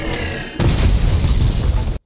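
A bomb goes off in a scene from the film Spider-Man: No Way Home, a loud, deep boom that hits suddenly and rumbles for about a second and a half before cutting off.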